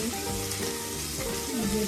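Mustard seeds in hot oil, a brief, steady sizzle with light crackling, close and fairly soft, with no clear gaps.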